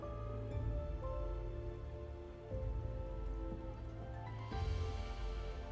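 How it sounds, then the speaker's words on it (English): Rain falls in the Final Fantasy XIV Dawntrail game world, a soft, steady patter lying faintly beneath sustained, moody background music. "It started to rain."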